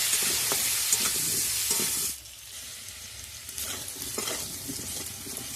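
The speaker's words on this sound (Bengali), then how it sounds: "আলুটাকে ভালো করে লাল লাল করে ভেজে নেব।" Potato pieces seasoned with salt and turmeric sizzle loudly in a hot pan, with the frying hiss dropping suddenly partway through as stirring continues, scraping and clinking close by.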